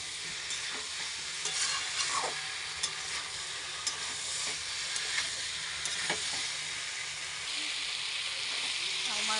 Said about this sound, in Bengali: মাছটা পটল আলুটা ভালো করে কষানো হয়ে গেছে